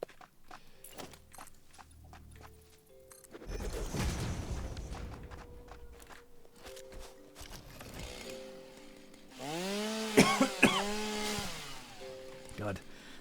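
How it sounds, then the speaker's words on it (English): A chainsaw in the Satisfactory video game revs in bursts among footsteps and clanking, with a loud harsh burst near the middle, and a cough breaks in toward the end while the saw keeps running. "tried to cough while the chainsaw was on"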